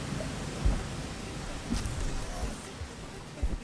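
In the video game Rain World, heavy rain hisses steadily while low rumbles of thunder rise now and then beneath the downpour.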